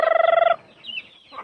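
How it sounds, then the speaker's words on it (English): Chickens in a Philippine village let out a quick, rhythmic burst of clucking up close, then fall to a near-quiet pause with faint scattered sounds. "Well, that's just chickens."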